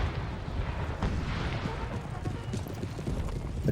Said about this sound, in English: it's drawn them in closer to their artillery, which is firing on their position right now